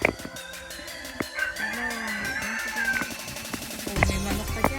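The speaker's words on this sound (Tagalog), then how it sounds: "may manok pa dyan" Chickens cluck and a rooster crows amid a busy outdoor market scene, with scattered calls and clatter nearby.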